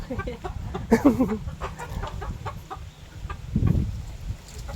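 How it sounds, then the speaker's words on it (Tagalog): Native chickens clucking close by in short bursts, with a louder flurry near the start and another low cluck later, over quiet outdoor background in Tacloban. "maliliit pa yung kanyang native na manok"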